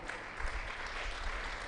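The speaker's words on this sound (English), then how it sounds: "Please clap them with your heart." An audience claps for the competing schools and their teachers at the Ndito Akwa Ibom senatorial districts quiz competition: a steady, fairly distant wash of applause under a low rumble from the hall.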